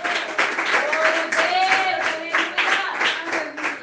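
A church congregation claps along in a steady, rhythmic beat under a voice that carries on over the clapping.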